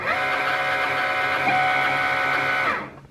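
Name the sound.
Cricut cutting machine feeding in heat transfer material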